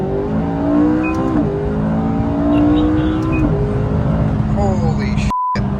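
McLaren 570S sports car accelerating hard, its engine note rising loudly through several gears with sharp upshift breaks, close and dominant, ending abruptly.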